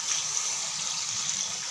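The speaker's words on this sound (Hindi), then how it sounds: "राइस को मैंने भिगो कर रखा हुआ है, तो इसको देती हूँ पानी" Water poured into a pot of soaked rice during home cooking, a steady broad rushing pour that holds at an even level from start to finish, close to the microphone with no voices.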